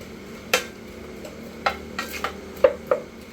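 Green chillies and onion sautéed in a pan for green peas pulao, a low background sizzle broken by several sharp metallic spoon clinks and scrapes against the pan.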